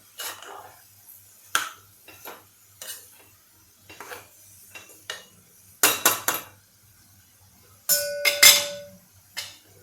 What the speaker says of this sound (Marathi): आपण जरा हे परतून घेऊया